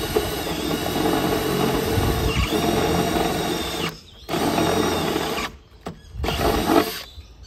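A power drill bores holes into a PVC privacy gate, its whine running steadily and close, then stopping twice briefly before starting again.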